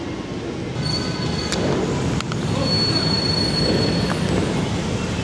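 A light rail train rolls in at a station with steady rumbling and clacking, metal wheels squealing in high whines as it arrives close by.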